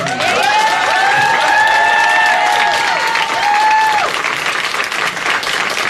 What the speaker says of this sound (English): I just wanted to say a round of applause and a huge thanks to Ashley